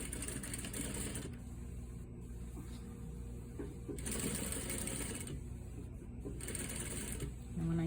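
A sewing machine stitches along the edge of a fabric military-style packet flap in three bursts of rapid mechanical whirring with pauses between them, while a person talks over the work.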